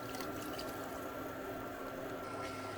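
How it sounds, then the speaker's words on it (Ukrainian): Water pours in a continuous, even stream into a pot, a steady splashing gurgle close by with no talking. "ми додаємо воду, доводимо до кипіння"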